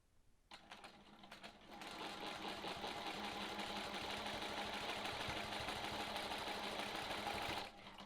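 A sewing machine stitches long looping quilting arcs, starting after a few brief clicks and then running as a continuous fast, even whir at close range until it stops near the end, with no voices.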